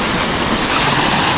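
Autumn waves roll onto the shore at a fishing spot, a loud, constant roar of surf with no pauses, heard close and alone without voices.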